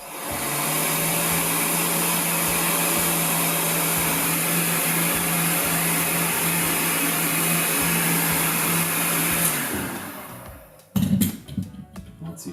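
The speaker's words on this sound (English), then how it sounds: "So I've just got a heat gun here" A heat gun blows with a steady, loud whirring hiss for about ten seconds while repairing a GE oven main control, then shuts off, followed by a few clattering handling sounds.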